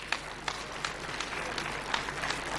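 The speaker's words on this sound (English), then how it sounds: "Give them a round of applause." An audience claps at an ANC mayoral candidates announcement event, a short burst of scattered, moderately loud hand claps over the hum of a public-address room.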